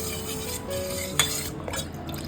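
A spoon stirs a milk and cornflour mixture for kharvas in a pot, giving a steady close scraping and swishing with one brief clink of utensil on metal.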